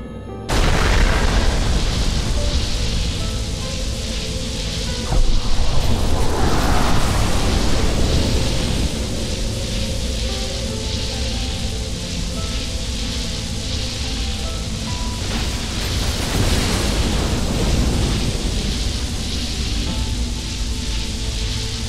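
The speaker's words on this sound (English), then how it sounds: "using the left stick, steer the cleansing beam around the 3 power sources to destroy them" Halo Wars Definitive Edition cleansing beam sweeping over power sources in the game, a dense, continuous roaring blast with booming explosion swells rising and falling throughout, loud and without speech.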